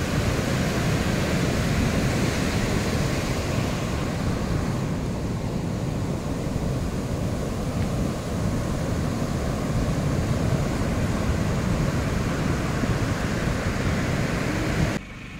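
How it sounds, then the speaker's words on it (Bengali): Sea waves roar steadily at dawn on Gopalpur beach in Odisha, a dense, continuous broadband wash of surf with no distinct breaks, fairly loud and unbroken with no voices. "ভোরবেলা দারুণ লাগছে সমুদ্রের গর্জন।"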